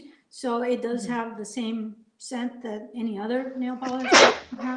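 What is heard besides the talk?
sneeze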